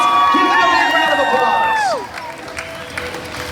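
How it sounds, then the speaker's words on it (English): A live game-show audience cheers, whoops and applauds for four contestants, loud and dense at first, then thinning into a quieter crowd murmur after about two seconds. "Put your hands together."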